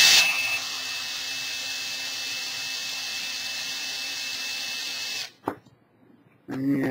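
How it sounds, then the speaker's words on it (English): A power drill whines steadily at high speed in reverse for several seconds close by, backing out of freshly cut 4-40 threads in a servo pushrod, then cuts off abruptly with a brief clunk and quiet. "Okay, reverse the drill."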